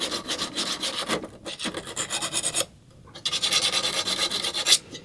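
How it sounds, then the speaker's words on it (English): Small diamond file honing the blade of a pole lathe bowl turning tool, steady close rasping strokes in a back-and-forth rhythm, with a brief pause midway before the strokes resume. "a little diamond one does the job quite nicely"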